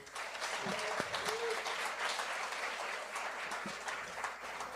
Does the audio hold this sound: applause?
yes